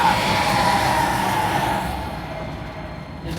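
A rumbling rush from a train target on the Millennium Falcon: Smugglers Run ride, loud and sustained with a broad roar that eases off slightly toward the end.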